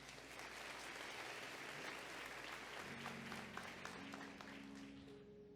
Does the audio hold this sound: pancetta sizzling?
no